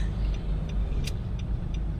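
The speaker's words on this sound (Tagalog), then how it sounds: "Alis na yun si truck." A truck pulls away from a hardware store in the rain, its low engine rumble steady and moderately close for two seconds, with faint clicks and ticks above it and no talking.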